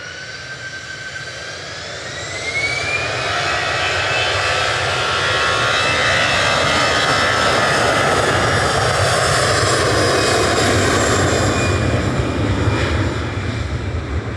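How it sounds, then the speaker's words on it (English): An EasyJet Airbus A320 Classic jet takes off at Manchester Airport bound for Palma de Mallorca, its engine roar building steadily after a quieter start, with a rising whine, then holding loud and sustained as it climbs away. "This is an A320 Classic."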